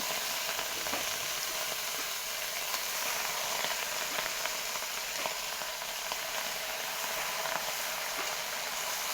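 Lapa greens cook in a hot pan, giving a steady, even sizzle and hiss with faint crackles throughout, close and moderately quiet with no voices.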